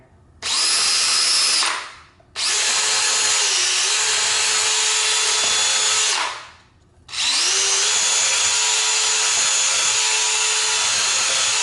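A power drill bores pilot holes for screws in three loud sustained high-pitched whines, each dipping as the bit bites in, with brief gaps between.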